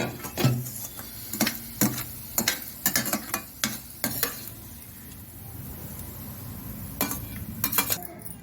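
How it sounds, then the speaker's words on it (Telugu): Chana dal frying in hot oil in a pan, with a series of sharp spoon scrapes and stirring knocks over a low sizzle, close by and with no voices. "ఇప్పుడు శనగపప్పు వేస్తున్నాను"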